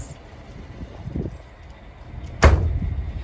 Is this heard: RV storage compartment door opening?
yes